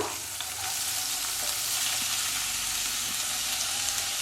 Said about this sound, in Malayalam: വലിയ ഉള്ളി നന്നായിട്ട് വഴറ്റിയെടുക്കുക.